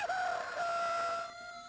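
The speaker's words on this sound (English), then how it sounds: "the rooster crows." A rooster crows from the Atari Lynx game Dracula the Undead, a single drawn-out, tonal cock-a-doodle-doo that holds steady and then trails off at the end, heard clearly on its own.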